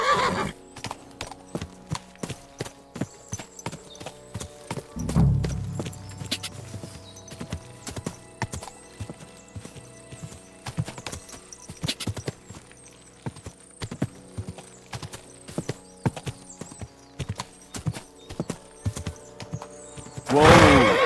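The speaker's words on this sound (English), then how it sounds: "A horse? What's it doing here in the woods?" In the video game Kingdom Come: Deliverance 2, a horse in the woods gives a sharp whinny, then irregular hoof clops and thuds follow, with another neigh near the end, fairly close and without talk.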